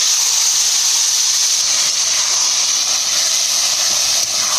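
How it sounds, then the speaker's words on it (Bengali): Hilsa fish and eggplant sizzle in hot oil in a cooking pan, giving a loud, steady hiss that holds evenly throughout with no talking. "ইলিশ মাছটা বেগুনটা দিয়ে দেবো।"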